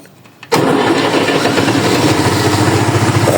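A heavy tractor engine cranks and catches after a brief quiet moment, then settles into a loud, steady rumbling idle close by.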